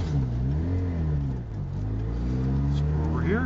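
A small Subaru 360 Sambar van's engine drones steadily while driving, its pitch rising and falling with the revs and shifting near the end, heard from inside the cab at a constant moderate level.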